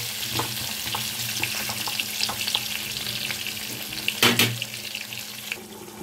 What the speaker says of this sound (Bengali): কুমড়োগুলোকেও আমি 2-3 মিনিটের মতো একটু ভালো করে ভেজে নেব।